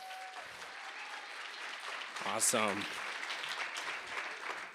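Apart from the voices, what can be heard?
applause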